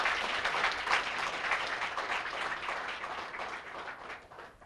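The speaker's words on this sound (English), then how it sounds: "Please let us give him applause," An audience applauds, a dense patter of clapping that starts fairly strong and gradually fades over a few seconds.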